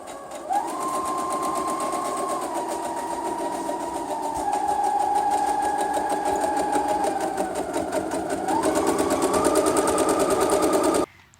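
A sewing machine stitches together pieces of a cushion cover, its fast, steady whirring running close and loud for nearly the whole stretch, easing briefly in pace before speeding up again, then stopping abruptly.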